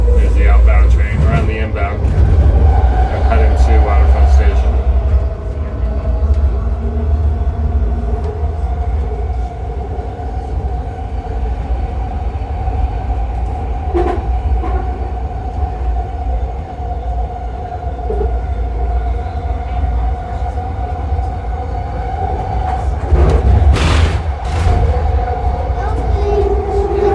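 Inbound commuter train heading to Waterfront Station, a steady low rumble and rolling hum with faint clatter throughout, sustained and fairly loud.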